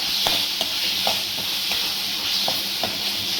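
A spoon scrapes and clinks against a pan about every half second over a constant sizzling hiss of Kathiyawadi-style vagharelo rotlo (tempered millet flatbread), close by, with no talking.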